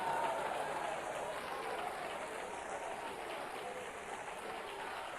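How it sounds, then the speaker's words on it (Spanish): A church congregation applauds in a soft, continuous wash of clapping, heard from a distance and fairly faint, with a faint wavering tone above it. "¿Cuántos le damos un aplauso al Señor?"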